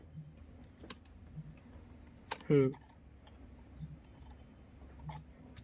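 Scattered keystrokes on a computer keyboard while Java code is typed, soft and fairly close, with a brief louder clatter midway against a quiet room background.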